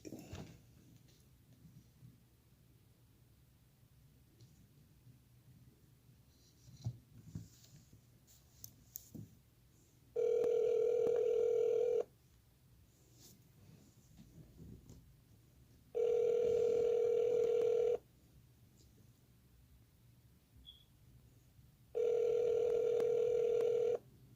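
Telephone call ringing out before being forwarded to voicemail, with three long steady ring tones at regular intervals over a faint background hum.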